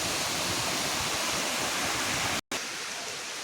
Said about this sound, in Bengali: ঝর্ণার জল গাছপালার ফাঁক থেকে বয়ে যাচ্ছে